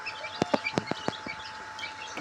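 Tiger chicken chicks and hens in a farmyard give a quick run of sharp clucks and peeps, several distinct calls in close succession, then a quieter stretch and a final burst, fairly close with no talk.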